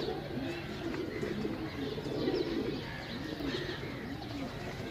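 Pigeons coo softly in repeated low, rolling phrases, with faint chirps and a constant background hum.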